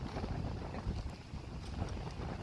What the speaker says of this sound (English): Just wish that it hadn't been so bloody windy.